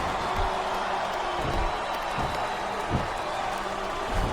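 A simulated arena crowd in the wrestling game WWE SmackDown vs. Raw 2007 on Xbox 360 produces a steady, distant roar of cheering and applause, with a few dull thuds from the ring.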